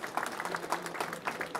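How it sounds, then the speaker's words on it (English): Brief, fairly faint applause from an audience gathered for a morning event, scattered hand claps blending into a soft patter over under two seconds. "Would you give a round of applause for Judge Joe Stevens"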